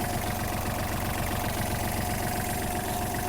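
The diesel engine of a Kubota GL-260 mini tractor idles steadily, with a continuous low knocking rumble and faint mechanical rattle, close and loud throughout.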